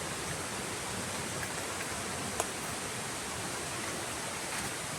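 Buruwisan Falls heard from a trail above: a steady, broad rush of falling water, soft and even throughout, with one brief click partway through.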